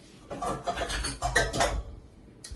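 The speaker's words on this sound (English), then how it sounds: "Let me get my muffin tin." A metal muffin tin is picked up and set down in a home kitchen, giving several loud clanks and rattles in quick succession followed by a brief clink near the end, with no talking.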